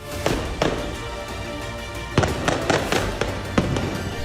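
Gunfire during fighting in al-Far'a in the West Bank: scattered sharp cracks and thuds, some single and some in quick clusters, over a continuous rumbling background, fairly loud and at a distance.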